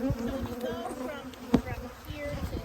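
Honey bees from a commercial beekeeping operation buzz around their hives, a close, steady droning hum with individual bees whining past, and people talking faintly underneath.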